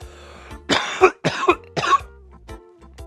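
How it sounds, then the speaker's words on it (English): Three harsh, rasping coughs from cannabis smoke in quick succession, close and loud, followed by a couple of quieter throat-clearing sounds. "It's making me cough before I even get that hell."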